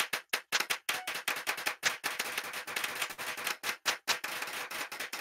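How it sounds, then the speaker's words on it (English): Hands clap quickly and unevenly in a rapid patter of sharp smacks. The claps are close and loud, sometimes pausing for a beat, with no talk over them. "Wait, look, this little clap."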